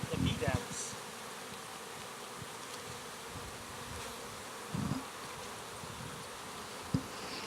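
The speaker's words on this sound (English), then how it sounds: "those are the bees on it" Honey bees buzzing on comb frames lifted out during a backyard hive inspection, a faint continuous hum with a few brief handling knocks, heard outdoors at a distance.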